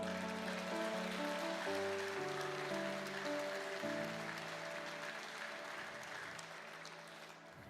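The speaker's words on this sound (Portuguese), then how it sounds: "Se é para aplaudir, aplaude com força." A church congregation applauds during a sermon, a dense continuous clapping that fills the space under sustained organ or keyboard chords and slowly fades toward the end.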